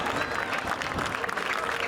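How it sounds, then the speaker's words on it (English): Applause from a stadium crowd at a high school football game honoring an athletic hall of fame class, a dense steady patter heard from a distance under murmuring voices. "how about a round of applause for our very own Joe Hartman"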